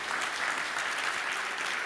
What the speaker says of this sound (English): I just want you guys to give them a big round of applause today.